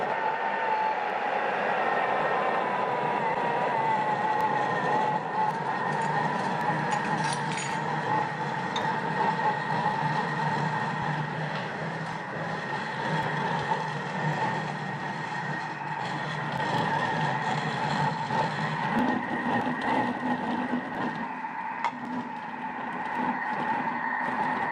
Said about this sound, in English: We just wanna blend it until it's a nice ball of dough.